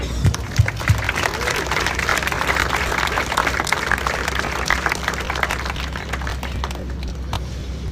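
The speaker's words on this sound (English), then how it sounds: "So please join me in a round of applause for them." Scattered crowd applause outdoors at a charity 5K run event, moderately loud, with a mix of claps and murmuring voices over a low background hum, continuing steadily before thinning out near the end.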